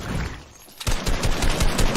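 Assault rifle gunfire in a video game, a loud rapid automatic burst of evenly spaced shots starting about halfway through after quieter game ambience.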